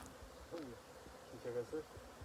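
Bees buzz around an opened beehive, a soft, steady drone with brief louder swells, heard close and without talk.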